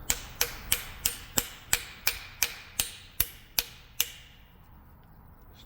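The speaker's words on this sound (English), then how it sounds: "Then what I will do is I will take a brass hammer" A brass hammer taps a cap onto a U-joint during a front yoke and transfer case job: about eleven sharp metallic strikes at a steady, quick rhythm, close and clear, then quiet.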